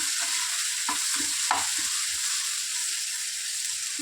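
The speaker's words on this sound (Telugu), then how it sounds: "పచ్చి వాసన పోయేంత వరకు బాగా ఫ్రై చేసుకోవాలి." Ginger garlic paste frying with onions in a pan gives a steady, close hiss of sizzling, broken by a few soft scrapes and knocks of a stirring spoon, with no voices.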